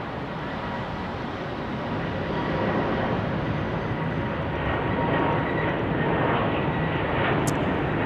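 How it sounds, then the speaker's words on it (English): An Airbus A220-300 airliner departs on runway 34 right, a broad steady jet roar that builds slightly and holds loud throughout, with no voices. "A220 300 now departing here on runway 34 right"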